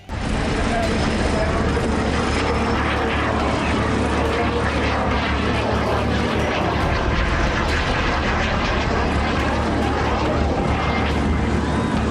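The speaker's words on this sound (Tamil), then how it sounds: "தென்னாப்பிரிக்காவில் இப்படித்தான் விமான சாகச நிகழ்ச்சி நடத்திருக்காங்க போல் இருக்குது" A loud airplane engine at an air show roars continuously and unbroken for the whole stretch, with some voices mixed faintly into the din.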